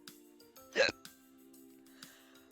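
A single sharp hiccup, close and fairly loud, pops out over a faint steady background hum during a live stream.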